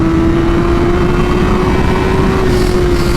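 A 2017 Honda CBR1000RR motorcycle engine holds a loud, steady, close drone whose pitch shifts only slightly, with no voices.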